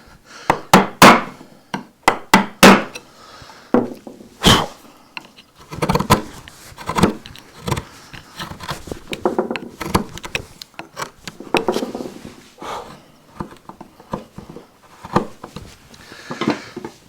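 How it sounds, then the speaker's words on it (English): Flat gouge struck with a mallet carving large upright wooden letters, a steady run of sharp close knocks and taps, some louder and spaced, others quick and light, with no talking. "And then we can swap back to the flat gouge to finish off the root in the middle."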